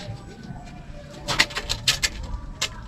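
Pigeons coo softly in a loft, with short bursts of wing flapping and rustling breaking through a low background hum.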